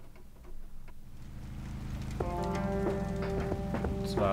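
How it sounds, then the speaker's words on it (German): Rain in the video game Kathy Rain while riding a moped: a steady patter that thickens and grows louder partway through, with light ticking tones on top and no talk. "Wir schön mit dem Moped durch den Regen fahren."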